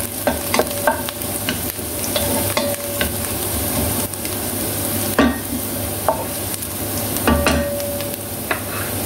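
Garlic and onion browning in a pan give a steady close sizzle and frying hiss, with repeated scrapes and taps of a utensil stirring, and no talk.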